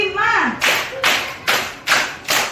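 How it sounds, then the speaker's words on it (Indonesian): A classroom of children claps in unison during a counting game, with five sharp group claps at steady intervals after a teacher's call. "Tepuk"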